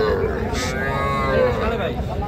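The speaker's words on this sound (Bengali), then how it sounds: "এইটাও একটা বকনা বাছুর শাহিওয়াল জাতের" A Sahiwal heifer calf lows in one drawn-out moo at a cattle market, close and fairly loud, over a steady din of background noise.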